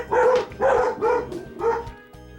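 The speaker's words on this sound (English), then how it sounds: "the puppies are on full alert because the lady went to the store, so they're going to be barking a lot" Puppies bark over and over in an indoor room, four loud yappy bursts close by in quick succession, with no talk in between.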